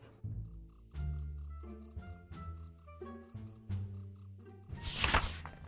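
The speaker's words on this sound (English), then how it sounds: "I am a cricket, said the cricket. I chirp when it's dark." A cricket's steady high, rhythmic chirping at night, regular pulses running over a soft plucked musical backing, ending with a brief bright swish.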